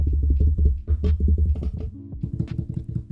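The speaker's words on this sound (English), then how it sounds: "So in case you hit your mic arm, this is what it's gonna sound like." Close, low thumping and rattling knocks from a Rode PodMic's microphone arm being bumped, in irregular bursts with short pauses between them.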